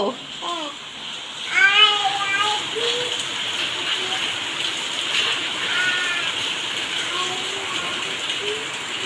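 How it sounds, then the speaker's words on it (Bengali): Monsoon rain falls steadily, a continuous soft hiss heard throughout, while a child and an adult talk over it. "কেমন বৃষ্টি হচ্ছে? টাপুর টপুর।"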